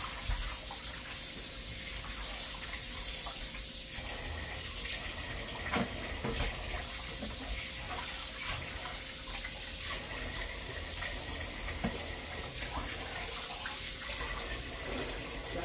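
Running tap water used to wash meat, a steady close gush splashing into a sink, broken by occasional knocks and handling sounds.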